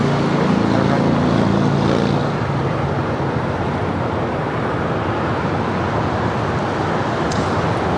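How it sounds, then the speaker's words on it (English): An American Airlines A321 departs from a runway at Los Angeles International Airport, a loud sustained jet engine roar that holds steady over several seconds and carries a broadband rumble from close range. "next departure here on the south side is American Airlines A321 on her way to Boston, Flight 1423"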